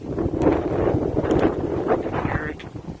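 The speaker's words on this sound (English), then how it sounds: "It's windy, windy, windy." Strong gusting wind buffets the microphone on a winter walk outdoors, a continuous loud roar with rising and falling gusts throughout.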